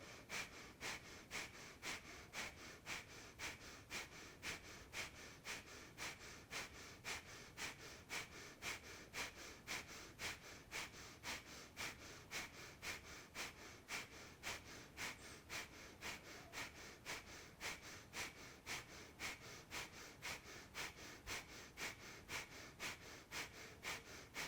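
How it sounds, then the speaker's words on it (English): Breath of fire yoga breathing, a rapid, steady train of sharp nasal exhales repeating evenly about twice per second for the whole stretch, close and moderately loud with no talking. "either slow, deep breathing or breath of fire. Sharp exhale out the belly"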